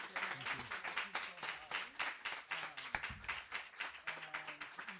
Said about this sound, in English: How about we clap for our guest one more time?